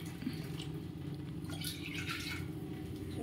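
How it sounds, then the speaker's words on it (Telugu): Water is poured onto three glasses of rice in a cooking pot. A brief, faint splash and trickle comes in the middle against quiet background hum. "దానికి తగినంత వాటర్ వేస్తుంది అనమాట"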